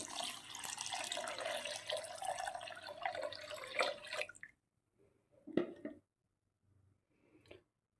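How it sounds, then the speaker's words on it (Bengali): Water runs from a tap and splashes into a pot holding daliya and dal, a steady rushing pour for about four seconds, then stops, followed by a couple of brief splashes and drips. "এবার আমি পরিমাণ মতন জল দিয়ে দেবো"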